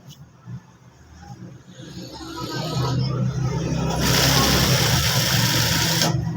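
An electric sewing machine stitching the side seam of a men's kameez, its motor whirring up into a loud, steady buzzing run, with traffic rumbling outside and someone talking over the start.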